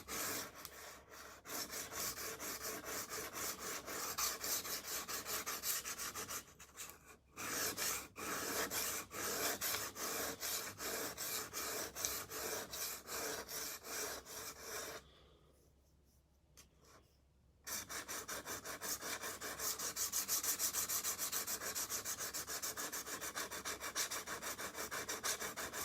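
A kitchen knife is drawn steadily across a sharpening stone, making continuous rasping, rubbing strokes with two brief pauses, close and clear without talk.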